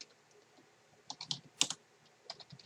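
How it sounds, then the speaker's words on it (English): Close, crisp typing on a computer keyboard while entering a server configuration command, with irregular clusters of light key clicks and a few sharper taps and short pauses, with no voices. "we are going to type /configure"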